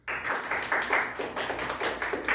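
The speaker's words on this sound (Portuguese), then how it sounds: "Também teve umas palmas" A classroom of schoolchildren claps in a quick burst of uneven applause that starts abruptly and carries on steadily for a couple of seconds, close and fairly loud.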